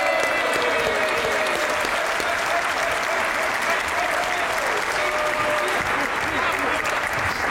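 Studio audience applause greets guests arriving with his wife on a Hindi-Urdu comedy talk show, a steady dense roar of clapping that holds evenly loud throughout with no gaps.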